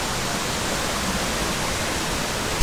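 The waterfall at Salakot Falls in Puerto Princesa, Palawan pours with a loud, unbroken roaring rush of water, close by and steady throughout, with no voices.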